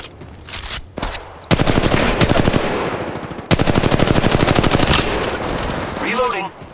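Sustained automatic weapon fire in Apex Legends, two long rapid-fire bursts, loud and up close, with brief game voice lines and reload sounds in between.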